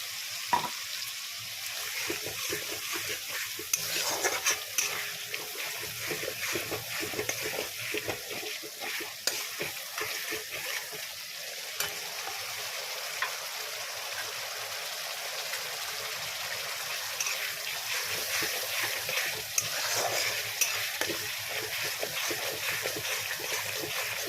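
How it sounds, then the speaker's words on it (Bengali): Water poured into a pan of sizzling paneer tikka masala, a steady hiss and splatter of frying with stirring scrapes that continues evenly throughout, close and moderately loud, with no talking. "এর মধ্যে সামান্য জল দিয়ে দিচ্ছি"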